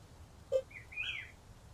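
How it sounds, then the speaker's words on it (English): A brief bird chirp in an indie horror video game, a short low note followed by a soft higher trilling call, faint and alone over quiet ambient background. "Hello, my bird friend."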